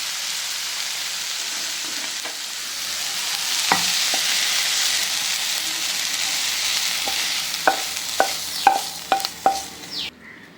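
Wet stirring and soft scraping as chopped vegetables are mixed into dosa batter in a bowl, with a few sharp spoon clicks against the side toward the end; no voices.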